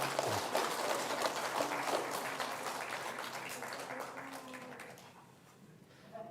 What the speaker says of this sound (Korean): 우리 다시 한번 우리 박수 한번 하겠습니다.